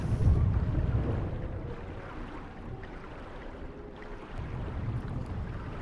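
Churning, splashing water from swimming through tsunami flood water in GTA 5, a steady low wash with wind-like rumble that swells near the start and again toward the end, heard alone without any talk.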